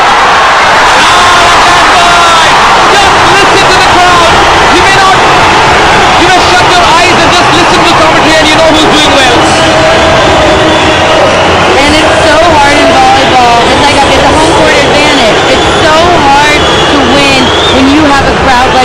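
A packed arena crowd at a Chennai Spartans versus Kochi volleyball match roars and cheers continuously, loud and dense, with a commentator talking over the noise.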